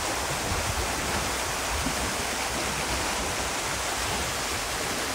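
A large artificial waterfall at a villa's swimming pool pours out a constant, broadband rushing roar that stays even and unbroken throughout, with no voices over it.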